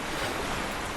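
Ocean waves surge and wash continuously around an old wooden sailing ship, the Partridge, in the sailing game Sailaway 3, a loud, dense, unbroken roar of surf with some wind.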